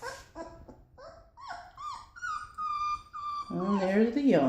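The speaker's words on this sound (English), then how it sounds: "there's the yawn" A Neapolitan Mastiff puppy lets out a long, drawn-out yawning whine that rises and falls, close up, ending in a breathy squeak.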